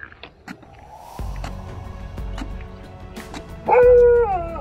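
A dog near a temple in Karnataka gives close, sharp barks and yips, then breaks into a loud, drawn-out howling whine.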